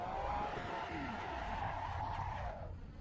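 Tires squeal in a long skid as a car oversteers and spins out, the engine droning underneath before the screech fades at the end.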